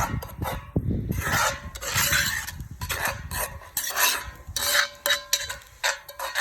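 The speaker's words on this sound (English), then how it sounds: "Let's give that a stir." A wooden spoon stirs Hungarian goulash in a pot, producing irregular scraping and rubbing strokes against the metal with soft clinks, close and moderately loud, without talk.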